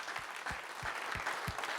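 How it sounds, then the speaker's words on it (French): An audience applauds at the official presentation of Golden Globe Race skippers, a steady round of clapping with no speech over it. "Applaudissements pour eux aussi, s'il vous plaît."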